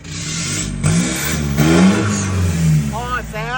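A 2018 X-Series 1.9 pickup truck engine idles and revs up, a steady mid-range rumble with a rising swell, under a voice talking over it.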